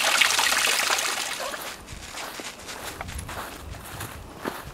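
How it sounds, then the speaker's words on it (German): A small water feature at the Katzgrotte, a stone grotto dated 1910 on a woodland trail descending the Klüt via Finkenborn, trickles softly and steadily. The sound stays faint throughout, with a few footsteps and light rustles nearby. "Das ist ein Wasserspiel."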